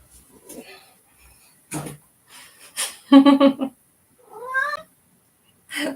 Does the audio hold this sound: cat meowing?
yes